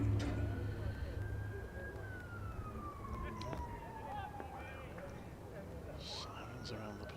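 Distant emergency sirens wail faintly during a live County Championship cricket match between Warwickshire and Sussex, a long falling tone drifting behind continuous crowd and ground noise.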